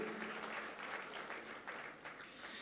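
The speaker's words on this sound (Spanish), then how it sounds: "Fuerte ese aplauso de alabanza al Señor" A church congregation claps in praise during a Spanish-language worship service, producing a steady, dense wash of applause that holds even and fairly soft for the whole stretch.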